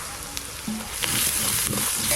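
Onion fried until soft, with ground cumin, dry red chili paste and turmeric added, sizzles in hot oil in a pan, a steady close hiss that thickens and grows a little louder, with a few light stirring knocks.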